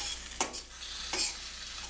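Chilean sea bass sizzling in a pan with sauce, a steady close frying hiss with two brief scraping stirs over it.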